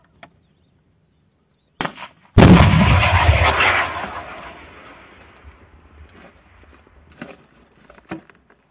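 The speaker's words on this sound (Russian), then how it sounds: "Выстрел!" A Ukrainian Stugna anti-tank guided missile fires in a single loud, close blast that booms and then rolls away in a long fading rush, with a few faint knocks and clicks before and after.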